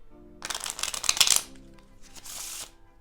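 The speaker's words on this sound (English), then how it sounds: "just shuffling the cards face up could make it easier on you while you're learning" A deck of playing cards is riffle shuffled with a bridge in the hands: a close, fast burst of fluttering card riffles, then a softer, brief cascade as the cards settle.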